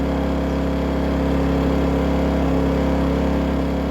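A Dinking DK2300i-M inverter generator, a lightweight 1800 W camping unit, runs steadily at a higher idle, giving a loud, continuous engine hum with a constant drone and no talk.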